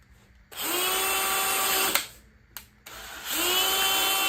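A power drill bores through the face of a jig knob in two close, loud whirring runs, each spinning up and holding a steady whine, separated by a brief pause with a sharp click.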